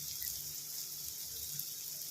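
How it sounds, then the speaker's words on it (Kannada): Hot water poured from a jug into a pan while making masala upma, a steady soft splashing stream heard alone and fairly quiet. "ಇವಾಗ ನಾನು ನೀರು ಹಾಕ್ತಾಯಿದ್ದೀನಿ ಫ್ರೆಂಡ್ಸ್."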